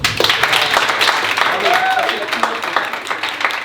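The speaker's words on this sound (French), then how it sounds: "je pense qu'on peut déjà t'applaudir très fort" A comedy roast audience in France bursts into loud applause, dense clapping running throughout under a host's voice.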